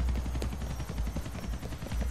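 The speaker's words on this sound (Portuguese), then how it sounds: "Tem um helicóptero por aqui" Helicopter rotor in the video game GTA IV, a steady low chopping thrum running throughout, fairly loud and close, with no voices.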